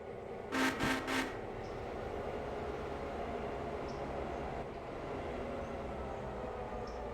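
A train rumbles along steadily in the Railroader railway game, a low continuous rolling drone opened by a brief loud horn or clatter, with no voices.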